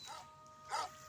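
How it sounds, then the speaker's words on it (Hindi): A dog barks once in the Granny video game, a single short, fairly faint bark over a steady game background hum, with no clear talking. "बेचारा डॉगी भौंकता रहे।"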